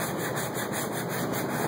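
Parts of a 1966 Sears tractor are sanded with a power sander, giving a steady, close, continuous abrasive rubbing whir that is loud and unbroken throughout.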